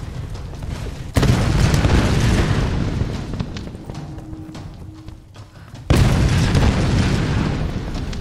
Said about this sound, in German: Die tun einem nichts, die Explosion.